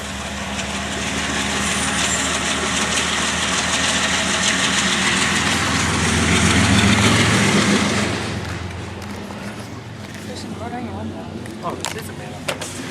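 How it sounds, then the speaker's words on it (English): A BNSF train locomotive idles nearby in Denver, its heavy low engine rumble steady and loud, swelling briefly before easing, with faint talking in the background. "Look at that engine sound."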